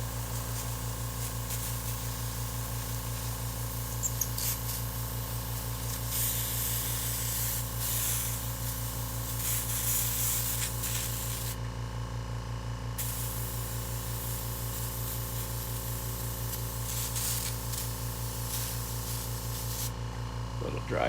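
Steady, continuous hiss of an airbrush spraying paint onto a skateboard deck, loud and close, with brief dips where the spray stops and restarts, over a constant low hum from the studio.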